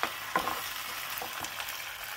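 Chilli paneer with red chilli sauce and tomato ketchup is stirred in a frying pan, with a soft continuous sizzle and a few scraping strokes of the spoon, fairly quiet and without voices.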